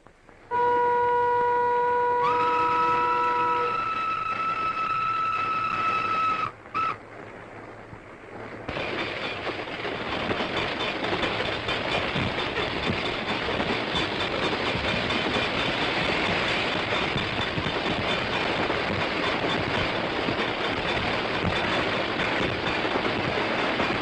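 A 1945 French SNCF steam locomotive hauling an express train on rails: a loud, steady rumble and rhythmic rail clatter running continuously after a brief opening passage of sustained tones and a short break.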